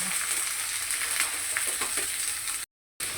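Oil poured into a hot pan crackles and sizzles in a continuous close hiss, with a short gap of silence near the end.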